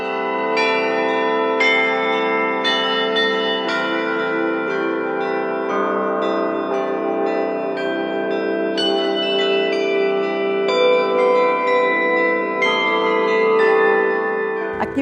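Church bells ring out in Mariana, Brazil, in a festive peal, with several bells of different pitches struck in quick, overlapping succession. The peal carries loud and steady, with no voices, until it stops abruptly at the end.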